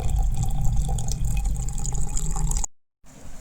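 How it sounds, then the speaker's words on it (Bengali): Lukewarm water pours over raw mangoes in a storage container, a close, continuous splashing gush that cuts off abruptly near the end, followed by a brief quieter trickle. "ওরকম কুসুম গরম জলটা আমি দিলাইলাম, পুরা আমটা ডুবাইয়া দিলাইলাম দেখুন"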